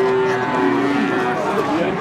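Cattle low in a long, steady moo over a constant crowd murmur at a busy village livestock market selling calves, heard close and fairly loud.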